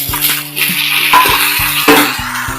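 Tomatoes sautéing with onions in a pan for a village-style rock fish curry, a steady sizzle with scattered scraping clicks of a spatula against metal.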